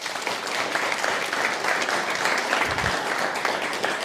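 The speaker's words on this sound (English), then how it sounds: "another round of applause for puppy raisers" Audience applause at a guide dog graduation ceremony honoring puppy raisers, a steady dense wash of clapping from a large crowd lasting several seconds.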